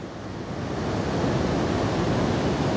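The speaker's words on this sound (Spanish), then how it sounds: "Acá tenemos la cascada de Zunguapta" Steady, full roar of the powerful Zunguapta waterfall in the Canadian Rockies, a dense close rush of falling water that swells slightly and holds constant with no voices.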